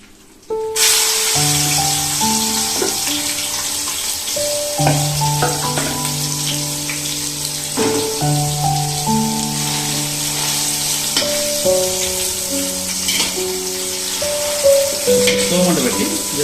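Chicken sizzles and fries in hot oil for a dum biryani, a loud, steady crackle that runs throughout with a tonal whine over it.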